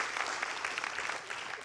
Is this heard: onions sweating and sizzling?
no